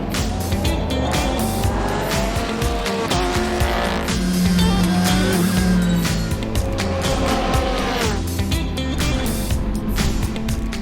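LMP3 and GT3 race cars at Le Castellet, a loud continuous roar of engines with shifting pitch and squealing tires as several cars pass close by, with no voices.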